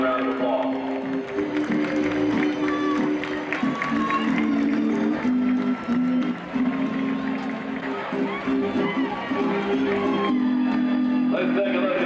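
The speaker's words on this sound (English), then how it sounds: "send them out with a nice round of applause" An audience at a horse show applauds and cheers in a large arena, with sustained clapping and a crowd roar under a PA announcer's voice and music.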